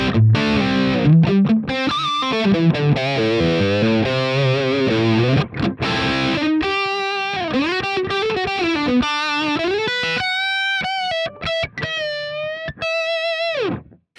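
Distorted electric guitar through a Line 6 Helix Vitriol amp model with a Greenback cab, playing a heavy, saturated riff of chugging chords and sustained lead bends, loud and close with brief pauses between phrases.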